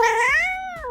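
A cat lets out a long, drawn-out meow that rises and bends in pitch, then tails off into a shorter second call, close and loud with no talking.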